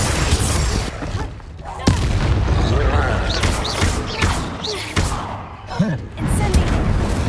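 Confringo spell blasts in the video game Hogwarts Legacy go off as repeated sharp bursts and booms at irregular intervals, with whooshing spell effects in between and a voice casting spells over the action.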